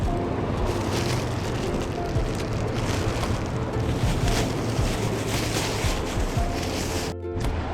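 Ocean surf rolls in at a Galveston jetty as a loud continuous wash of waves mixed with heavy wind buffeting the microphone, steady throughout with no talking.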